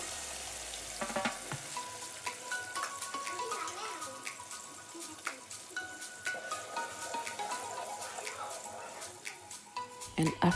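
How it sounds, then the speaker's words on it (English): Chopped red onions sizzling and frying in hot oil for a vegetable and fish gravy, a steady close crackle with sputtering pops and occasional stirring, louder near the end. "So first you are going to put some amount of your chopped red onions into the oil and allow it to cook for some time"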